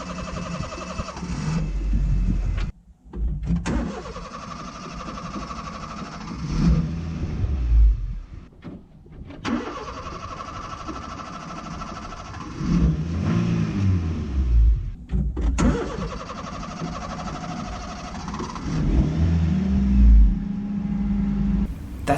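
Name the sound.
car engine cranking and struggling to start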